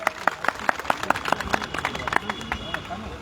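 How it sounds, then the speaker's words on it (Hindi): A crowd at an open-air public rally claps in welcome for a guest, scattered hand claps sounding over a murmur of people, fairly close and steady for a few seconds. "आप लोग ताली से स्वागत करेंगे।"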